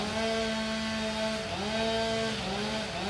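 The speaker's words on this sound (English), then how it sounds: "You ever pick up a big chainsaw, you know what I'm talking about." A big chainsaw runs near a large tree during a tree removal, its engine whining at a steady high pitch that dips and recovers a few times as it bogs into the cut, with no talking.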